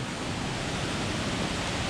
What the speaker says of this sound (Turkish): Büyük bir şelale sesi geliyor.